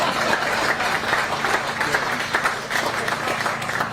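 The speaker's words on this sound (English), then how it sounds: "Come on, a little more applause for the Cavs." Audience applauding the Cleveland Cavaliers at a public event, steady broadband clapping that holds for the full four seconds with a hint of crowd noise, close and fairly loud.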